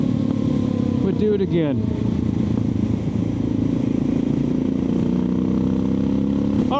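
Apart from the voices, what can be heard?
Suzuki DR650 motorcycle engine running while riding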